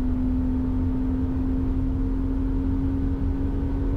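A car brakes and reaccelerates through the Klostertal corner at the Nürburgring, a steady loud engine drone with a sustained tone, heard close from inside the cabin.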